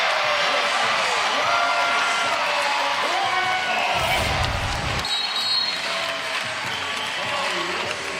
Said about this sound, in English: The roar of the crowd is all you need to know.